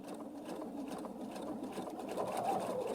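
A sewing machine running steadily as it stitches a circle for machine applique, a close, even motor whir with a fast needle rhythm that grows slightly louder toward the end, with no speech.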